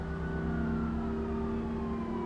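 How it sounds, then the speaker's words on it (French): A siren wails at a steady distance over the drone of a running vehicle, sustained and fairly even in loudness, with no talk. "tu entends ce que j'entends? Des sirènes de police."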